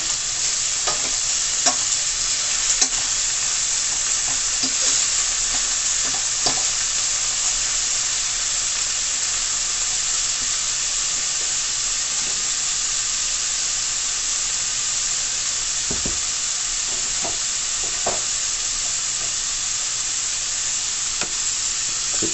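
Herbs and saltfish sautéing in a pan with a steady hiss and sizzle, soft scattered clicks of stirring breaking through now and then, constant and moderately close with no voices.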